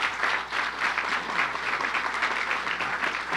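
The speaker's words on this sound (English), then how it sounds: "give him a round of applause." An audience applauds Coach Vince Dooley at an outdoor Liberty Trail announcement event, a steady, moderately loud patter of many hands clapping with a slight rhythmic pulse throughout.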